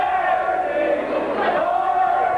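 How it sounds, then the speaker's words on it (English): A wrestling crowd chants "Barney" in unison, a broad, loud, swelling roar of many voices. "And the crowd's chanting, Barney."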